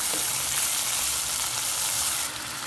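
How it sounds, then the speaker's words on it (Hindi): Blended mustard greens for sarson ka saag fry in a pan with a steady, close hiss and sizzle that eases slightly near the end, no talk. "अब इसके अंदर हम डालेंगे जो ब्लेंड करके रखा हुआ था ना, इसको भूनने के लिए रखेंगे"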